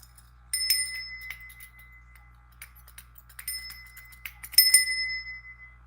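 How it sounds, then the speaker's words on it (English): A small hand bell, just tightened after coming loose, rings in three bright metallic bursts with lingering overtones, the last one loudest, against a quiet background. "Oh, it rings much better."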